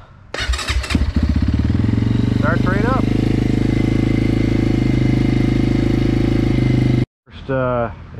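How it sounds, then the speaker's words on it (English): A GPX FSE250e motorcycle engine starts with a few sputters, then settles into a steady, loud running idle up close before cutting out briefly and catching again. "Engine break-in successful here."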